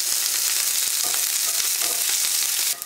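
Onion sautéing in a pan with ginger and curry leaves for a spicy masala omelette, a loud, continuous close sizzle with faint stirring scrapes, cutting off abruptly just before the end.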